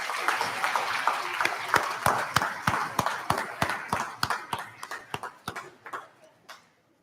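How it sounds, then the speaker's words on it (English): Audience at a 5th grade DARE graduation ceremony clapping in a round of applause, starting as a fuller patter and thinning into scattered, separate claps that fade out near the end. "Let's give our DARE graduates one last round of applause."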